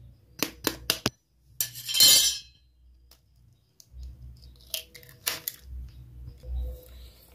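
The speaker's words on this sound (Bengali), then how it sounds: "এবার আমি এর মধ্যে ডিমটা ফাটিয়ে দিয়ে দেবো।" A raw egg is cracked into a bowl of crushed Lays chips, chopped green chilli, onion and salt: several sharp taps against the rim, then a brief crackly spill, followed by softer handling clinks.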